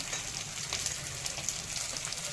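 Beans, peas, chopped green chili and capsicum fry in hot ghee with curry leaves, giving a steady, soft close sizzle with faint crackles throughout and no talking.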